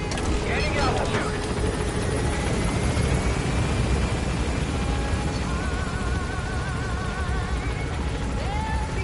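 A helicopter in Metal Gear Solid V climbs with a steady rotor and engine drone, moderately loud and continuous, with a faint rising whine and some game sounds over it.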